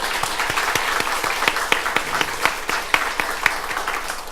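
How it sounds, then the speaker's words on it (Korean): A church congregation gives a big round of applause during a Sunday worship service, with many hands clapping in a lively, steady rhythm for several seconds. "모든 감사와 영광 우리 하나님께 큰 박수로 돌려드릴까요?"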